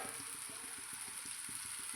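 Small chuno fish and fried onions sizzle steadily in a pan, with a quick, regular scraping rhythm of stirring roughly every quarter second, close and fairly soft, no voices.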